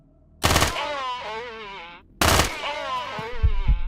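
Enemy gunfire in the video game Last Night On Quasim: two loud bursts of shots, about two seconds apart, each with a ringing electronic tail, followed by a few softer thumps.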